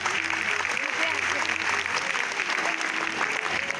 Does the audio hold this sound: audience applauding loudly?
yes